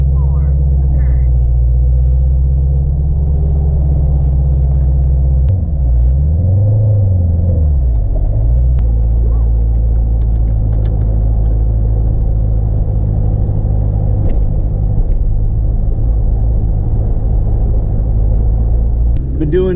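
A 2015 Chevrolet Corvette C7 Z06 V8 sports car starts and settles into a deep, steady idle, heard from inside the cabin as a loud continuous low rumble with a brief rise in revs early on.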